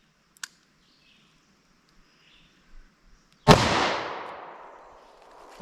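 A single loud .357 Magnum gunshot is fired into clear ballistics gel. It comes after a few faint small noises and then rings out in a long decaying echo. No one speaks.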